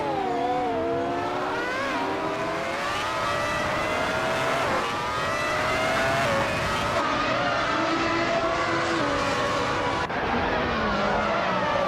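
A Ligier JS41 race car engine in a racing video game screams loud and continuous, pitch swooping up and down through shifts and corners, with no voices over it.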